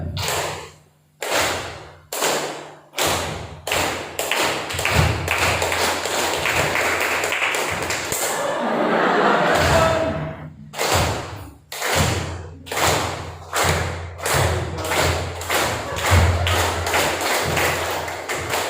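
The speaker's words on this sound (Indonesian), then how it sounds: "Tepuk tangan sesuai gerakan tangan saya." An audience at a Quran teachers' gathering claps in unison, following a leader's hand signals, with loud sharp claps in a steady rhythm that break into a short burst of continuous applause before the rhythmic clapping resumes.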